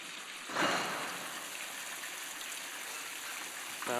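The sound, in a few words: water of fountain in front of Burgos cathedral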